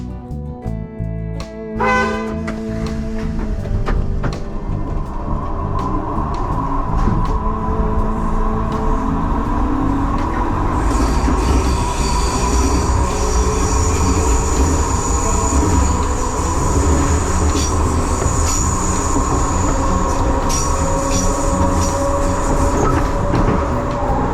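An 81-71 metro train on Prague Line B rolls past at length on a viaduct 17 metres up, a continuous rumbling roar with rhythmic clacking and a rising whine, loud and close throughout.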